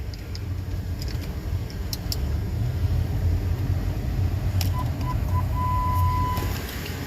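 2004 Lincoln Navigator engine running steadily after coolant hose replacement, a low continuous rumble with no misfire, heard from nearby with faint background clicks and a brief tone.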